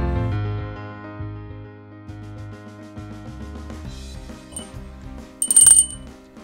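A small bell built into the Durian board game rings out near the end, bright and brief, over a bed of tonal background music.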